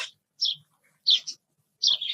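Caged birds in a bird shop giving three short, bright chirping bursts, close and clear, separated by silence.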